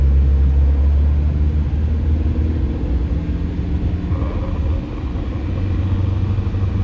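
A VW BEW TDI diesel engine idles in gear at about 700 rpm with a stock AW4 torque converter. It gives a loud, steady, low rumble that holds evenly throughout, with no voices.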